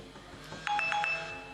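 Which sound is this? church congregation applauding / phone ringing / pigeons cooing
phone ringing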